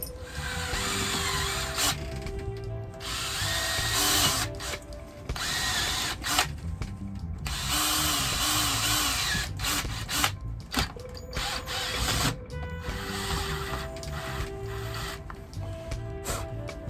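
Screws are driven out of a steering wheel under restoration with a power tool, giving long stretches of steady whirring and ratcheting noise over about seventeen seconds, broken by brief pauses.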